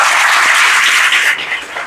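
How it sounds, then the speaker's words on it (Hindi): Agriculture students at a scholarship test event in Uttar Pradesh applaud loudly, a thick, sustained roar of many clapping hands close by that thins slightly toward the end. "एक बार फिर से जोरदार ताली बजाइए सब लोग"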